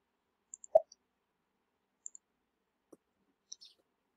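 A computer mouse clicking in a quiet room while working in SAP software: a handful of light, sparse clicks, a few close together, with no talking.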